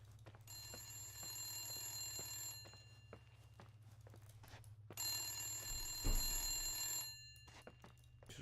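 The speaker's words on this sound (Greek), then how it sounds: "Τηλέφωνο. Έχει εδώ πάνω τηλέφωνο. Από κάπου εδώ ακούγεται." A telephone rings inside a quiet hotel in the horror game The Suicide of Rachel Foster, sounding as two long trilling bursts of the bell over a low ambient hum.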